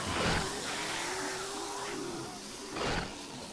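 A low, groaning video game digging sound with a drawn-out tonal moan, ending in a brief burst of noise, heard alone without speech.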